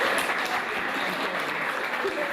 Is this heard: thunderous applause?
yes